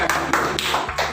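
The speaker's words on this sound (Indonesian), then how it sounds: "tepuk tangan untuk kelas 3" A classroom of pupils in a combined-grade lesson gives a brief round of applause for class 3: a few sharp, evenly spaced claps, close and fairly loud.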